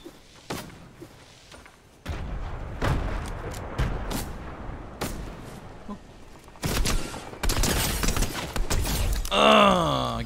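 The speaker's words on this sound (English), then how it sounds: "Oh, there's someone shooting." Gunfire in the video game Fortnite, with several sharp shots and short bursts scattered through the scene, some near and loud, others further off, mixed with game effects and occasional talk.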